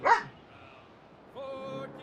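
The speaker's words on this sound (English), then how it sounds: "His little Koi's little barks and growls" Small dog Koi gives one short high yip, then after a pause a thin, whiny, high-pitched growl or whimper, close and moderately loud.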